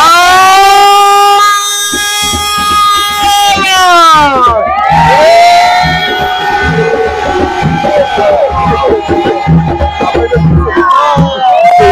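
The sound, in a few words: audience shouting and cheering for the group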